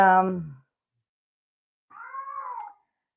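A brief voiced sound fades out, then after a pause a single drawn-out cat meow rises and falls, close and clear.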